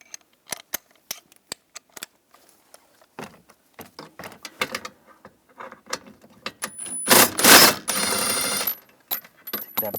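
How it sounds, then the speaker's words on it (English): Ratchet with a 13mm socket loosening a bolt on a bracket of a 2010-2017 Chevrolet Equinox, a series of sharp separate clicks, then a dense run of rapid ratcheting close up. "On this bracket, we're going to take this bolt out. We're going to use a 13mm socket."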